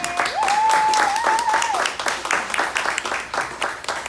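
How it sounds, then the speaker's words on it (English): An audience applauds at an artist talk, with a steady burst of clapping that slowly thins out, while a voice speaks over it in a drawn-out cheer at the start. "A round of applause for Chad one more time"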